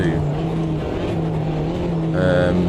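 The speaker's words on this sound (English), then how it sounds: "I think the engine sounds and that are from the JCW Mini." A Renault Clio Cup race car in Automobilista 2 at Kyalami, using JCW Mini engine audio, drones steadily at high revs with a shift in pitch near the end, loud and close under someone talking.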